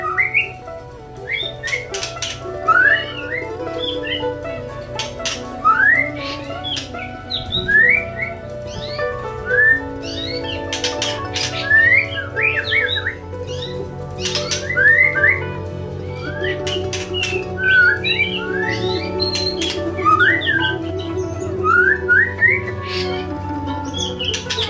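A moulting white-rumped shama (murai batu) sings continuously, with loud, varied whistles and rapid chirps in bursts over a layered, steady background of other bird calls, all close.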